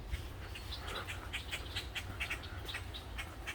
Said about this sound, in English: You got some noisy birds up here.